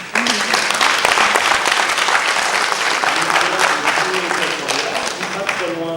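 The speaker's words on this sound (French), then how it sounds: "vous pouvez l'applaudir" Sustained applause from an audience at a women's leadership forum in the European Parliament, Strasbourg: dense, even clapping filling the hall for several seconds, with a voice speaking faintly over it.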